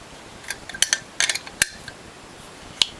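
A tool tightens the four bolts on the top and bottom plates of a WHF or Norwalk juicer, making sparse, sharp metallic clinks and clicks, with a quick cluster near the middle and single taps before and after.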